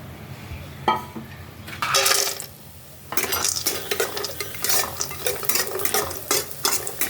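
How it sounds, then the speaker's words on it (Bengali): Bori lentil dumplings frying in oil in a wok, with crackling sizzle broken by repeated scraping and stirring strokes of a utensil against the metal, close and fairly loud, no voices. "কড়াইতে তেল দিয়ে দেবো, দিয়ে বড়িটা ভালো করে ভেজে নেবো আমি।"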